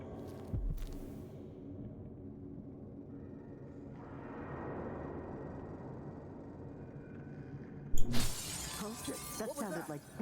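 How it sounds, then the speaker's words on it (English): Glass breaking in the video game Dishonored 2, a sharp shattering crash near the start and another burst later, over a low ambient rumble with a voice speaking. "That sounded like broken glass."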